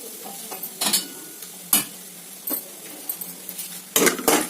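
Almonds frying in hot ghee in a pan, a soft bubbling sizzle broken by several sharp scraping and stirring strokes, close up and intermittent, with a pair of busier bursts near the end.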